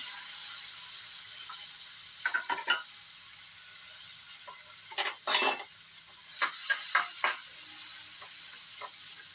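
Carrots stirred in melted butter in a pan, a soft low sizzle beneath a few short bursts of scraping and clinking from the utensil against the pan, with quiet gaps between strokes.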